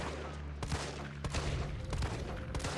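Gunfire from a weapon shooting a zombie in Resident Evil 3, several sharp shots spaced out over a steady background of game ambience.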